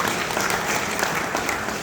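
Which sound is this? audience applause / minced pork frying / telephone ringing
audience applause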